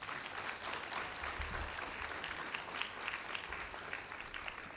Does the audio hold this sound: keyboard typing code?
no